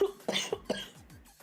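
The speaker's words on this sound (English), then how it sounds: "I say that right as I do a horrible freaking cough" A few harsh, raspy coughs in quick succession, close to the listener, followed by a brief quiet breath.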